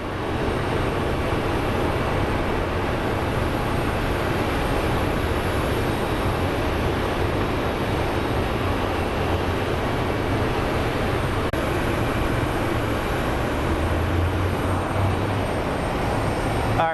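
A jet airliner at Phoenix Sky Harbor airport produces a continuous broad engine roar that holds steady and fairly loud for the whole span, with no talking.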